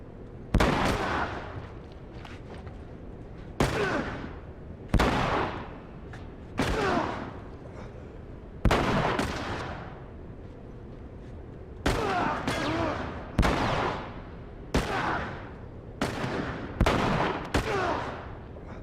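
Gunshots in The Last of Us Remastered on Grounded difficulty, Chapter 7, as an enemy soaks up bullets: about a dozen loud, sharp reports spaced irregularly, each trailing off in a short echo.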